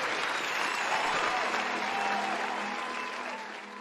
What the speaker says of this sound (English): Round of applause for that level.